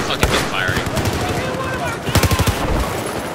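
Shotgun firing frag rounds in Battlefield 4, a quick burst of several sharp gunshots in close succession near the end, with earlier scattered shots and background combat noise from the game.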